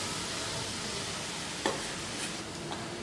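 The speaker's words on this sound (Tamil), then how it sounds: "இப்போது மிக்ஸ் பண்ணி வச்சுருக்கிற கேழ்வரகு மாவு நம்ம கடாயில் சேர்த்துடலாம்." Ragi flour being stirred and dry-roasted in a kadai over medium flame, a steady soft scraping hiss with faint clicks of the spoon against the pan.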